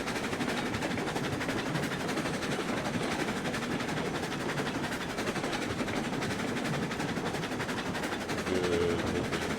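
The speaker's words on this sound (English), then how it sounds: "Good looking train shot there." A train rolls steadily along the rails in the video game RailRoads Online with a continuous rumble and faint clickety-clack. The sound stays at a constant level, with no voices.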